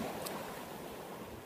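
Ocean waves wash against an island shore in a continuous soft, broad hiss of surf, faint and steady with no distinct breaks.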